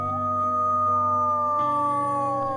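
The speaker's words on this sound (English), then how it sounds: "And they're all wolves." Wolves at a Florida Panhandle sanctuary howl together, several long sustained tonal howls overlapping and sliding in pitch, loud and close with a quiet background.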